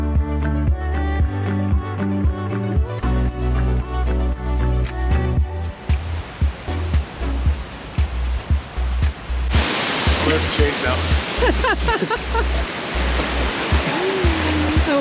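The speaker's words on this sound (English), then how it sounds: "That's a really powerful waterfall." Powerful waterfall in Oregon's Columbia River Gorge, swollen by heavy water flow, a steady loud broadband roar filling the whole clip, with tonal music audible early on and a person speaking briefly over it.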